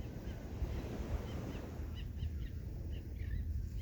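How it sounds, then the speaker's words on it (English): Ocean waves wash in a continuous soft rushing roar during a restorative yoga practice, with a breezy hiss and faint scattered bird calls over it, no voices. "that beautiful sound of the ocean"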